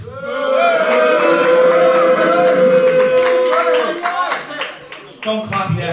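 Audience at a Titanic Wrestling show, with a loud, steady crowd roar and a held, tone-like voice running through it, then scattered sharp claps and shouts near the end.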